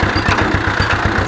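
Ursus C 360 tractor engine working during ploughing on fallow land, its tyres slipping, a loud, close diesel chug with a fast, even thumping rhythm and no voices.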